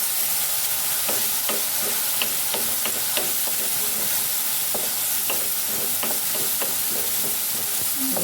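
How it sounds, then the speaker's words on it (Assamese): Spice masala frying in hot oil for a Rajasthani onion sabzi, with a constant sizzle and the repeated scrape and clatter of a spoon stirring the pan close by. "মছলাখিনি অলপ ভাজি দিম"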